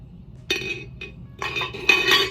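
A ceramic ladle is set into a small ceramic soup serving bowl, making a few light clinks and a short scraping rattle as it settles into place.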